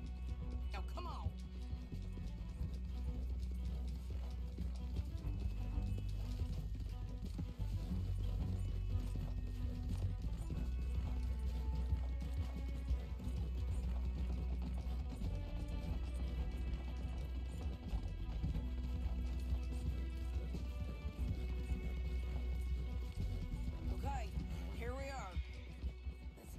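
Horses gallop in a steady rhythm of hoofbeats in Red Dead Redemption 2, beneath a constant low rumble and game music, with characters talking over it.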